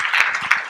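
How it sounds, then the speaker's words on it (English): Audience applause for an award recipient at a medical research talk, a brief burst of many hands clapping with a few sharper individual claps standing out, close and fairly loud. "one more round of applause for Dr. Cartier, who's our Ann Moser Award recipient"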